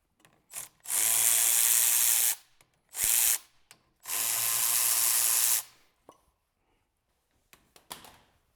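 A power tool loosens the brake caliper bolts on an FJ Cruiser during a brake pad and rotor job, running in three loud, close bursts of whirring, followed by faint clicks and handling noises.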